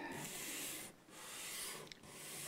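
Sanding block rubbed back and forth over the bridge of an Epiphone Broadway archtop guitar, giving steady close rasping strokes with two brief pauses between passes.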